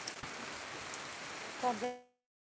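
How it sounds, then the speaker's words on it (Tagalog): Rain falls steadily on a rural farm, a faint even patter that continues for about two seconds before cutting off, with a brief voice near the end. "Maulan."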